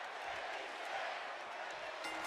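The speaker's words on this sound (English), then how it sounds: "it genuinely sounds like the crowd was shouting, "Get his ass."" Arena crowd in WWE 2K25, a dense wash of shouting and cheering voices filling the space at a steady level, distant and blended rather than individual.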